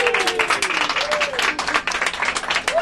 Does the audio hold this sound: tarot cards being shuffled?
no